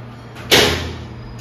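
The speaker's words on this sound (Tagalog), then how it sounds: "Medyo mahigpit ang aking pinto." A snug magnetic door on a home being fitted with a Ubiquiti UniFi G5 bullet camera is pulled open, giving one sudden close thud and release that trails off quickly over a steady low hum.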